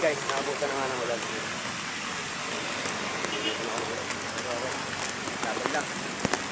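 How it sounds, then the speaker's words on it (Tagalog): Rain falls steadily outdoors on a road trip, a constant, close hiss with scattered sharper drop ticks and a few faint background sounds throughout. "Yun guys, nakabutan na nga ng ulan."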